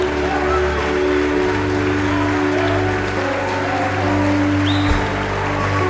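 A church congregation applauds a sermon, a broad patter of clapping blended with a sustained musical drone that holds throughout, both loud and continuous.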